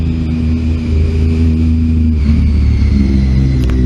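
Loud motorbike engine revving nearby, a steady heavy low rumble with a slight rise in pitch held throughout, no talking.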